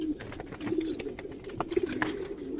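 Pigeons at a pigeon farm in Bangladesh coo repeatedly in soft, rolling calls, several birds close by and overlapping against a steady background murmur of the loft.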